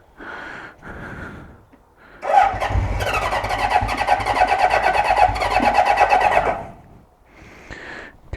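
A roughly 50-year-old Honda 750 Four motorcycle cranks and catches, its engine running loud and close for about four seconds before cutting out, with short bursts of sound before and after.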